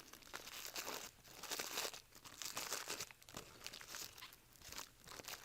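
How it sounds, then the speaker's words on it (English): Plastic packaging around a mechanical seal stationary unit crinkles and tears in close, continuous rustling bursts as it is unwrapped, with no one talking. "unwrap the stationary unit"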